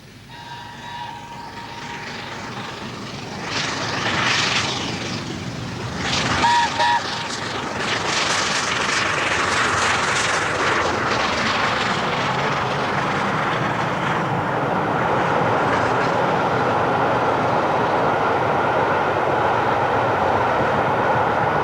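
LNER A4 steam locomotive Mallard on a main line run in summer 1988: a loud, building roar of the passing train that swells after a few seconds and holds as a sustained, heavy rumble to the end.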